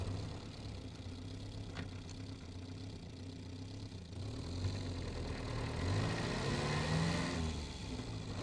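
A car engine runs steadily while driving along, a low continuous hum with mild swells in revs and road noise, no talking.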